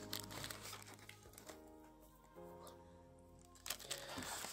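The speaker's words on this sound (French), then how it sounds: "on va être amené maintenant à déballer" Packaging for a Tuya wifi LCD temperature sensor crinkles and rustles close by as it is unwrapped, in soft bursts at the start and again near the end, with a low electronic hum and faint background tones.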